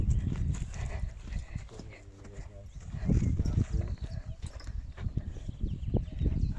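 A white horse walks at an animal sanctuary, its hooves clip-clopping steadily in an uneven rhythm, with people talking over the steps throughout.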